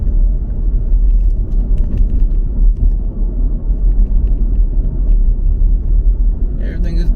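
Low engine rumble and road noise inside a fire-damaged 2013 Chevy Equinox on a test drive, a steady droning hum with slight surges, while someone talks over it.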